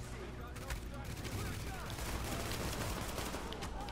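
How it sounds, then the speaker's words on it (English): Sustained gunfire in Tom Clancy's The Division, a dense, continuous roar of overlapping shots with no breaks, mixed into heavy background combat noise. "They're just shooting."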